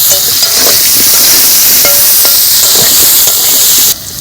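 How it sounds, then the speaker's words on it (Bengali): Potato pieces with turmeric and salt frying in hot oil, giving a loud, dense, close-up hiss and crackle that stays steady, then drops sharply just before the end. "এবারে আলুটা ভাজবো, তাই আমি এখানে একটু হলুদ দিয়ে দিলাম, আমি একটু লবণও দিলাম,"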